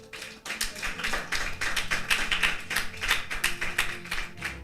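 A church congregation claps in praise of the Lord Jesus, dense rapid applause with a steady rhythmic pulse, loud and close, continuing throughout with no voices over it.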